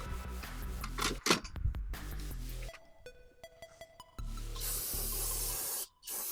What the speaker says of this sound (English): I'm gonna spray it with brake cleaner and let it dry.